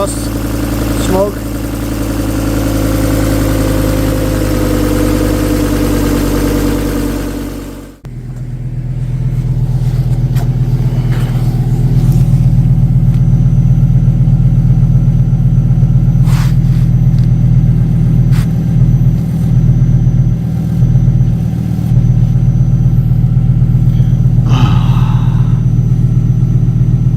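A custom-built Fiat car engine on a cold start with a suspected exhaust leak runs loud and close, holding higher revs for about eight seconds before dropping sharply, then settling into a steady, throbbing low idle with brief flutters.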